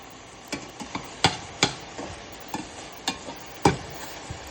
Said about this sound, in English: I like using the metal because I like using it to help chop the meat up a little bit